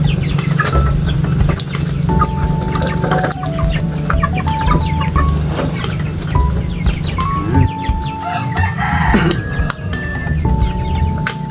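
A flock of chickens being fed, clucking continuously throughout with overlapping calls and an occasional rooster-like crow, fairly close and loud over a busy farmyard background.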